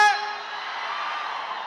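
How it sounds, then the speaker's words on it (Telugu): A theatre crowd at a film music event lets out a sustained roaring cheer and whoop, loud and continuous for the whole moment, with no speech over it. "థియేటర్లో ఈ అరుపుల కోసం వెయిటింగ్,"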